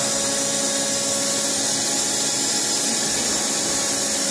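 A spindle motor spins at high speed, around 4,000 RPM, producing a steady, loud whine with a constant tone and broad noisy hiss, unbroken for the whole stretch.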